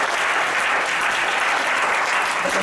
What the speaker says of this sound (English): Can we give a round of applause to World Ventures?